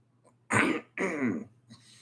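Two harsh, throaty coughs close to the mic, back to back, then a faint short rasp after, with quiet room hum beneath.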